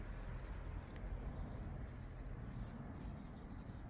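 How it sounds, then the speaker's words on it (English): Baby birds in a nest, near a mulberry bush and hardy geraniums in a garden, give faint, high, thin chirps repeating in short bursts over a soft outdoor background hiss. "I wonder if you can hear the little nest of baby chicks somewhere."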